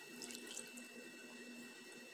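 Water is poured into flour and yeast to make the sponge for an Italian Colomba Easter bread, a faint, steady trickling with light splashes in a quiet kitchen.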